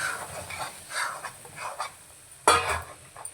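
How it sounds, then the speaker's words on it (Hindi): Wheat flour roasting in ghee in a pan for panjiri, with soft scraping and stirring strokes and a faint sizzle in an irregular rhythm, punctuated by one sharper clatter of the spoon against the pan. "आटा हम इसमें डाल देंगे और अच्छे से इसको भून लेंगे घी में"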